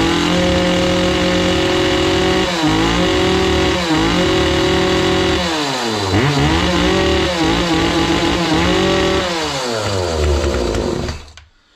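A Zomax 4010 chainsaw runs after being repaired, its small two-stroke engine buzzing loud and close, revving up and down several times before cutting off at the end, with no speech.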